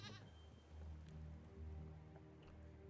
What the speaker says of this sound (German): Ich habe gerade der Ziege eins mit dem Speer übergezogen.